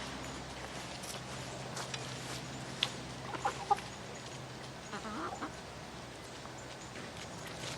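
Chickens cluck softly as they leave a coop, a few brief clucks rising over a low, steady background, faint and somewhat distant.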